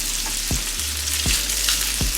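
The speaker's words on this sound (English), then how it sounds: "So you just cook the bacon until it's like crispy." Bacon sizzles and crackles in a pan as it cooks until crispy, a steady close frying hiss with a few soft scrapes of stirring and no talking.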